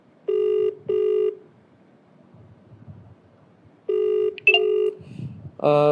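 Phone dialing tones beep in two pairs separated by a quiet pause, with faint background murmur and a final short tone.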